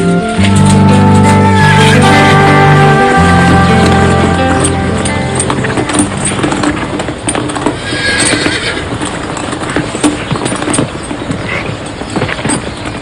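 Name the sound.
horse hooves clip-clopping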